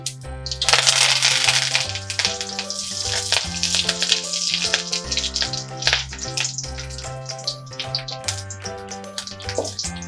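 Mustard seeds splutter in hot oil alongside curry leaves and a dried red chili, the tempering for an instant mango pickle. Dense crackling pops rise in a loud burst, then keep popping unevenly under background music.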